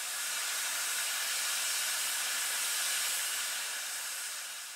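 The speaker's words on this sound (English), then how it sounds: "especially when the steam locomotives pass by, or if you're really lucky enough, when they stop right in front of you" Steam locomotive at the Sandaoling coal mine lets out a continuous, broad hiss of steam, loud and steady, easing slightly toward the end.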